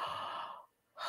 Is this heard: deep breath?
yes